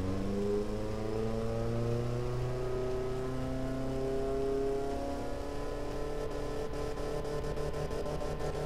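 A family-sedan 4-cylinder engine in the Automation car-building game revs in a steady, close drone whose pitch climbs gradually, then eases back near the end.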